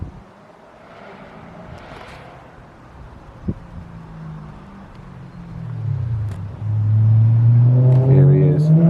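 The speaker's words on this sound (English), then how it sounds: "Judging by the roaring I can hear, I think Luke might be here." A modified car with a loud, aggressive engine roars as it pulls in, starting as a distant rumble under wind noise and swelling into a close, heavy growl, with a voice briefly heard.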